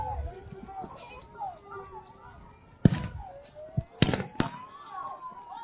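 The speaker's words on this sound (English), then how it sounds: "We have munitions fired. Flashbangs based on the sound." Flashbang munitions fired at protesters during street unrest, with several sharp, loud bangs at intervals over a constant murmur of crowd voices and background chatter.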